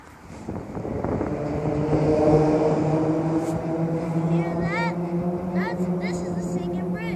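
Cars roll across the open steel grate deck of the Singing Bridge, added in 1938, on downtown Frankfort's Main Street, raising a loud, steady, humming drone with sustained tonal layers and faint high chirps above.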